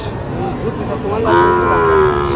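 A Sahiwal cow lowing at a busy cattle market amid a noisy crowd, the moo rising partway through and holding steady, moderately close over constant background chatter.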